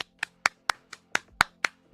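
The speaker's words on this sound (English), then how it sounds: "Please stop clapping." One person claps in a steady, evenly spaced rhythm, about eight sharp claps over two seconds, close and clear with no talk.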